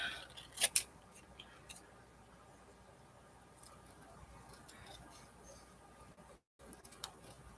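Scissors snip out a tiny paper face for an art journal page, giving a couple of sharp close cuts near the start and a few lighter clicks afterward, quiet and without talk.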